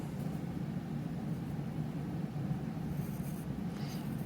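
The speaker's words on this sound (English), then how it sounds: "So I'm just going to draw this boot right here on my tracing paper." A pencil sketches a boot quickly on tracing paper, giving a steady, close scratchy rasp that runs without a break for the whole stretch, with no voices.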